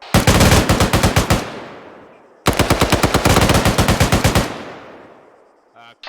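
Two long bursts of automatic machine gun fire in a squad training exercise in a video game, each a rapid, even string of loud close shots trailing into echo, followed by a brief voice at the end.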